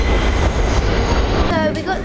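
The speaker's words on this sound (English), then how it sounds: "We are now in the subway." A New York City subway train rumbles loudly nearby, with a heavy low drone and rattling, then a squeal of wheels near the end as people talk.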